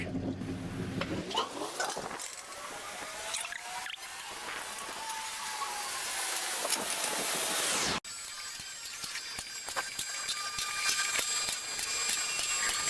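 A vehicle lift raises a car in a repair shop. Its motor gives a steady, quiet mechanical whine that climbs for several seconds, then a sharp clunk, and the hum carries on.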